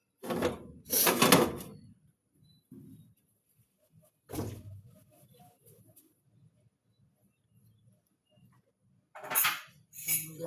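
Dishes being washed at a kitchen sink, with scattered clinks and clatters of plates and cutlery in short bursts separated by near silence.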